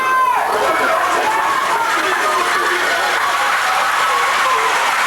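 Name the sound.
crowd at a high school homecoming football game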